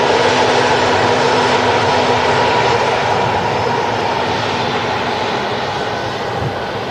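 Ryanair Boeing 737 MAX at Manchester Airport, a loud steady jet engine roar with a broad rushing whine that holds throughout and eases slightly toward the end.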